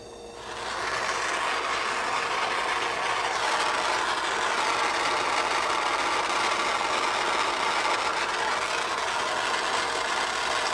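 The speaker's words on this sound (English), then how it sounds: "I'm going to bring my flame down just a little bit. See, I keep moving the torch." A jeweler's torch flame roars steadily, close and loud, as high-flow wire solder is run along the seam of a silver cuff bracelet, the hiss rising within the first second and then holding even to the end.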